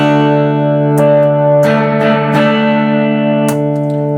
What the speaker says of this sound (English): Good reverb signal now, nice and strong.